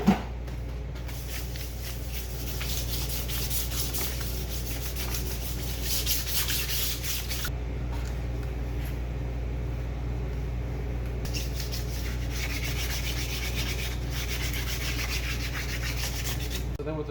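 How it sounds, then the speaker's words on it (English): Hand sanding an aluminum wheel with 1000 grit wet-or-dry sandpaper: a steady, continuous rubbing hiss up close, with brief pauses and shifts in stroke, over a low constant background hum. "so we have to sand these wheels. This is wet or dry 1000 grit."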